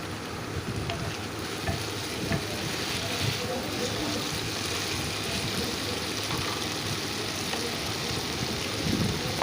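Stuffed potatoes for vegetarian Kashmiri aloo dum stirred in a pan, a dense steady sizzle with soft scraping throughout, close and even.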